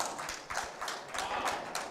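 A crowd at a 2021 WCVNEA sporting event claps steadily with scattered quick handclaps and faint cheering blending into a continuous, moderately distant patter.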